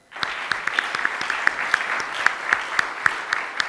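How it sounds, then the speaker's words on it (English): Steady applause from a large audience at a Dubai stage event as Mr. Bhojani is welcomed, dense and sustained for the whole stretch with a few louder claps standing out. "Please help me in welcoming on stage with a thunderous round of applause"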